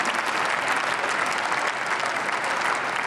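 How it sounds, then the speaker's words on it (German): Sustained applause fills a session of the German parliament, a dense, even roar of clapping from a large chamber audience that carries steadily throughout. "Der Beifall gilt dem Finanzminister."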